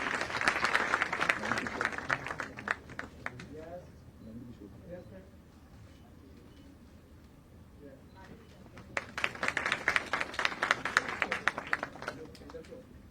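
An audience at a certificate ceremony in Jaipur claps heartily in two bursts, a few seconds each, separated by a quieter stretch, with someone speaking over the applause through a PA system.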